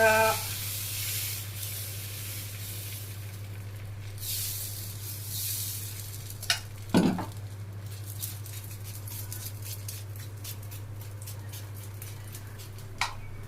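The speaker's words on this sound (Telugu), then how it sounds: "దోశ వేస్తున్నా, టిఫిన్ నీ కోసమే." Dosa batter sizzling on a hot pan at home for breakfast, a steady soft hiss throughout with a low constant hum beneath and a couple of brief clatters.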